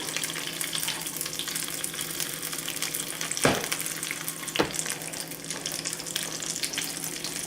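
Chicken pieces fry in butter in a pan with a steady, continuous sizzle, broken by two brief louder scrapes or bumps as the butter is tilted underneath.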